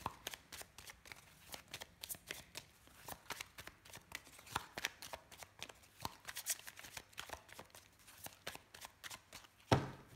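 Lenormand cards being shuffled by hand make a continuous stream of quick, papery riffles and slaps. The sound is close and fairly quiet, with no talk over it.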